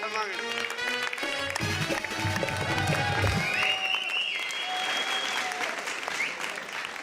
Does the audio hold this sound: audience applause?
yes